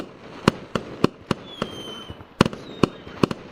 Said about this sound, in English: As the fireworks keep on going off.